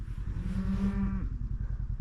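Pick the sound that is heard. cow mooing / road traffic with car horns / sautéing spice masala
cow mooing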